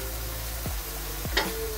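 Oil heating in a hot wok for stir-fried vegetables gives off a steady close sizzle, with a couple of short clanks from a utensil and one brighter crackling burst near the end.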